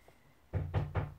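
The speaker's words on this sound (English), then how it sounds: "Oh, that's the door." Three firm knocks on a home's front door, evenly spaced and fairly close, breaking an otherwise quiet room.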